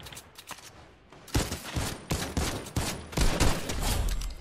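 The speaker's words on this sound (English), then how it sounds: "I know I missed six shots right there" Infantry rifles fire in Fortnite, with several loud bursts of rapid shots coming in quick succession and a short pause between volleys.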